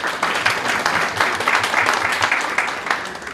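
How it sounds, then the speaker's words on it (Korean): Audience applause at a mayoral candidates' policy presentation event in Yongin, a dense steady clapping from a seated crowd lasting several seconds, no talk over it. "네, 인사 박수 한번 치겠습니다."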